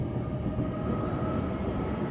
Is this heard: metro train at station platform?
yes